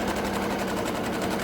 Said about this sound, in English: so I'm back stitching